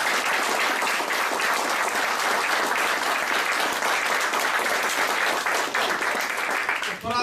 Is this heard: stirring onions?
no